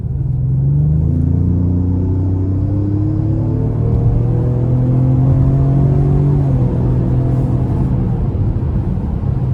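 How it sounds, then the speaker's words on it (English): A 2026 Ford Explorer ST Line in sport mode accelerates onto an interstate at about a third throttle. A steady, loud engine rumble rises in pitch as it gains speed, with road roar heard from inside the cabin and no talk. "Had it in sport mode, just gave it a little throttle, probably about a third. But it got up to speed very nicely."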